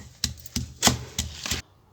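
Five sharp pounding strikes on chutney ingredients in a stone mortar, close and fairly loud, spaced in a steady, slightly uneven rhythm with short pauses between, then silence.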